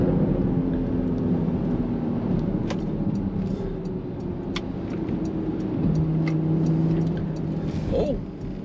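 Porsche Macan S engine dropping through the gears on approach to a roundabout, a steady close drone that shifts pitch as the revs change, with no talk over it.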